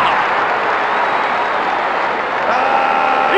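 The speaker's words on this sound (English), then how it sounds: "The crowd goes crazy." Wrestling arena crowd in the WWF War Zone game on Nintendo 64 roars with continuous cheering and applause, a dense, loud, sustained wash of crowd noise throughout.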